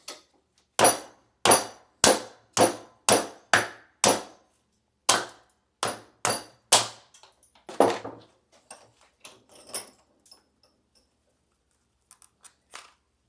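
A hammer strikes a certified gold coin holder slab, with about a dozen sharp, evenly spaced loud cracks, then scattered smaller taps and crunches of breaking plastic that trail off.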